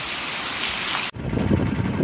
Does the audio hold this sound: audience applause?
no